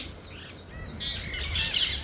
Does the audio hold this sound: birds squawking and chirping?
yes